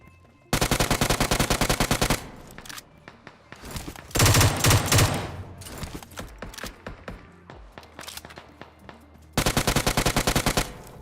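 Rapid automatic gunfire from the PUBG Mobile video game bursts out in quick rattling volleys, with a loud heavy burst in the middle and a final volley at the end, plus scattered single shots and game noise between them, with no voices.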